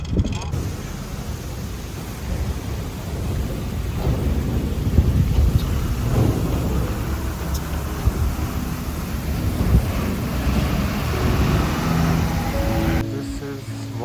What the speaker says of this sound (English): This is Wangkha waterfall.